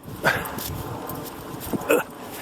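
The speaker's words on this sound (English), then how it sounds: "Hey, the dog's on the boat." A dog barks twice, a sharp yelp early on and another bark near the end, over steady outdoor background noise by the water as it boards a boat.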